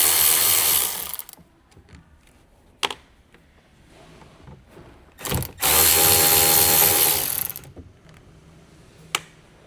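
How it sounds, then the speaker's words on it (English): A small electric impact wrench fitted with a T25 Torx bit socket undoes mounting bolts in a short burst, pauses briefly, then fires a longer burst, with a few sharp clicks of handling in between. "Use a small size T25 Torx bit socket with a small size electric impact wrench"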